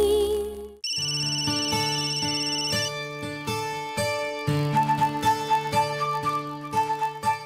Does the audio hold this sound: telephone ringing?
yes